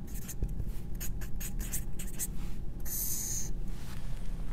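Marker writing on a board, a series of short squeaky strokes in irregular bursts, close and fairly quiet over a low room hum, without talk.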